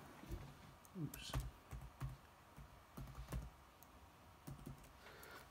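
Keys tapped on a computer keyboard while a password is entered, a quiet irregular run of soft clicks in small bursts with brief pauses between them, close by.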